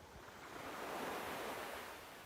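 Small ocean wave washing back into the sea on an evening shore, a soft broad hiss of surf swelling and easing over a couple of seconds, steady and gentle with no voices.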